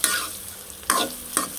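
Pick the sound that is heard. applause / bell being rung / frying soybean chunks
frying soybean chunks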